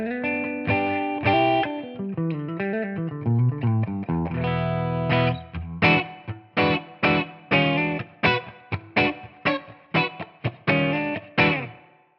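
Electric guitar on the middle pickup through a Victory amp capture in ToneX, clean tone: sustained chords melting into a melodic run, then a steady series of crisp, rhythmic plucked chord stabs, loud and close.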